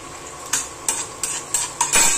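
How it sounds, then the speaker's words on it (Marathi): Chopped onion sizzles in a hot pan for green chilli and garlic chutney, while a utensil stirs and scrapes it in about five quick strokes over a steady frying hiss, close up with no talking. "आता हे कांदा इकडे भाजायला टाकलेला आहे, परतायला."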